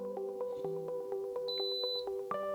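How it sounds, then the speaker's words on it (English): A single clear electronic beep from a Baby Lock Jubilant sewing machine, high-pitched and steady for about half a second, over a soft humming background tone. "You'll hear a beep"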